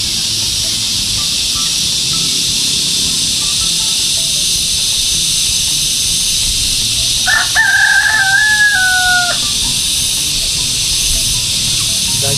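A rooster lets out one drawn-out crow partway through, clear and fairly close, rising over a constant hissing outdoor background with no one speaking.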